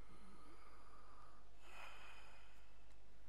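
A Red Dead Redemption 2 character breathes for a doctor's examination: one soft, breathy inhale and exhale swells briefly midway, quiet and close over a low steady game hum, with no talking.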